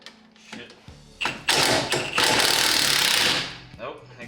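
An impact gun hammers on the nut of a coilover suspension on a Subaru Forester XT, several short bursts then a loud sustained rattling run, close by, with brief voices around it.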